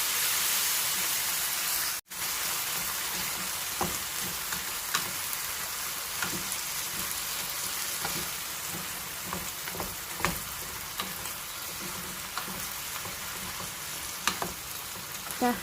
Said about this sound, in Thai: ก็จะผัดให้เขาแห้งกว่านี้นิดหน่อยจ้ะ